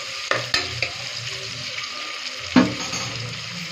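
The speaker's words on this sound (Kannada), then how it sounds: "ಈರುಳ್ಳಿ ಗೋಲ್ಡನ್ ಕಲರ್ಗೆ ಚೇಂಜ್ ಆಗಬೇಕು, ಗೋಲ್ಡನ್ ಮೆರೂನ್ ಕಲರ್ಗೆ ಚೆನ್ನಾಗಿ ಬೇಯಬೇಕು ಈರುಳ್ಳಿ" Onions frying in a pan for chicken biryani: a soft, steady sizzle close by, broken by a few sharp clacks of a spoon stirring against the pan.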